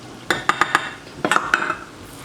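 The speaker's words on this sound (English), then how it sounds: "And stirring that in so it kind of forms a thick paste." A spoon scrapes and clinks against a pan while flour, nutritional yeast and soy sauce are stirred into onions and garlic for a gravy, giving a few quick metallic taps in two short bursts.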